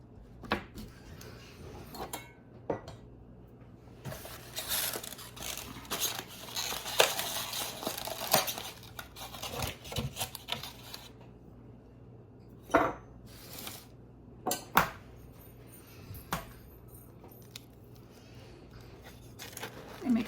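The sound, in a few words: cracking eggs into a bowl for muffin batter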